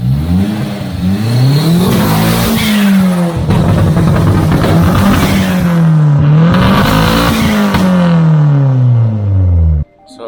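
A Jeep fitted with a Toyota 1JZ-GTE turbocharged engine revs loudly and repeatedly, rising and falling in pitch in long swells, close by, before cutting off abruptly at the end.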